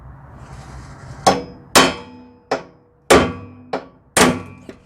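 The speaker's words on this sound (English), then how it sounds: "So you're going to have to get yourself a punch and a hammer." Hammer strikes on a steel punch driving a broken shear pin out of a Honda HS80 snowblower, six sharp metallic clangs at uneven intervals, close and loud with ringing decay between blows.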